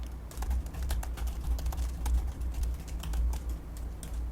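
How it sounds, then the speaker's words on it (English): Quiet, irregular keystrokes on a computer keyboard as a chat reply is typed, light clicks scattered over a low steady hum. "So I can type my response here."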